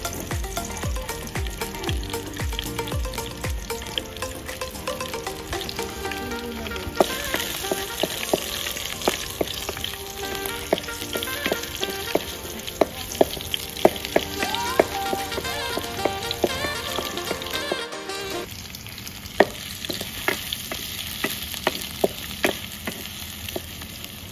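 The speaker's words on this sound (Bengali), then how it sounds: "প্রথমে রসুন দেবো, রসুনটা একটু লাল করতে হবে।" Garlic frying in oil in a pan for a Punjabi egg tarka, a steady close sizzle with crackling pops throughout and no voices.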